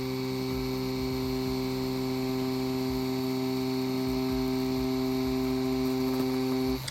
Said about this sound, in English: Still running at 8 volts with the Mummy tattoo machine.